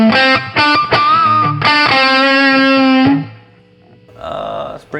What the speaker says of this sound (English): Max distortion.